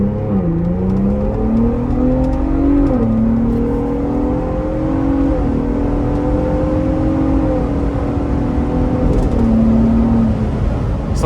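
A 2025 Ford Bronco Raptor in sport mode pulls away from a stop, its engine note rising steadily and loud from inside the cabin, with a brief dip around the upshifts before climbing again.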